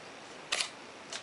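A Rolleicord camera's leaf shutter trips with a sharp close click, then a second softer click about half a second later, with nothing else but quiet room tone.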